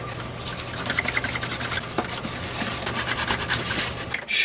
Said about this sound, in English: I'm rubbing pretty hard